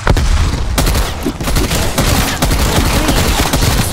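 A frag grenade blast amid continuous heavy gunfire in Call of Duty: Cold War Zombies, with dense, loud bursts of shots and sharp booms packed together without pause.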